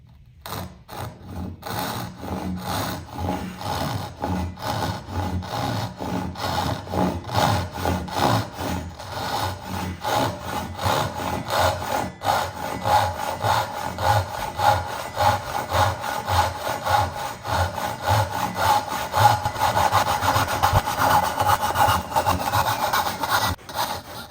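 A Japanese pull saw rip-cuts wood for a wedged through tenon, its steady, rhythmic rasping strokes repeating close up and growing a little louder and quicker as the cut deepens.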